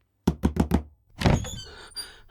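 Four quick, heavy knocks on a door in a tense haunted-house scene, closely spaced and loud, followed by a muffled thump and rustling.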